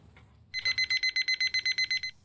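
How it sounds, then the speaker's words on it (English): A kitchen timer rings on a stovetop while an egg fries in an egg ring: a rapid series of about eleven evenly spaced, shrill electronic beeps, loud and close, after a brief soft clatter. "So my timer just went off."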